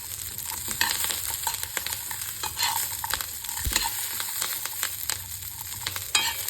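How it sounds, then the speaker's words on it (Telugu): Garlic frying in a hot pan for a groundnut and coconut chutney, giving a loud, dense, continuous sizzle with scraping stirs throughout and no voices. "ఈ వేడికి ఈ ఫ్రై అయిపోతాయి ఈ గార్లిక్ ఇవన్నీ."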